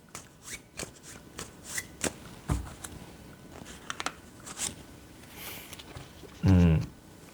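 Soul message cards are shuffled and drawn by hand, with a run of quick, crisp riffling flicks at irregular intervals and a louder burst of cards near the end, close and clear.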